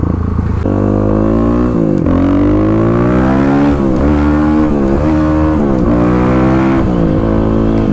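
A motorcycle engine revs hard and loud up close, climbing in pitch, then dropping abruptly several times as gears are missed, the roar surging again after each stumble.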